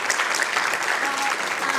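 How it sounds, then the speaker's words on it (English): Audience applause fills a city council meeting chamber, a steady wash of many hands clapping at moderate volume for a couple of seconds with no talking. "please give her a round of applause"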